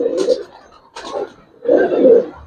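An original Indian Allahabadi Kaldam pigeon coos close by in low, throaty bursts: two short phrases, then a longer, louder rolling coo.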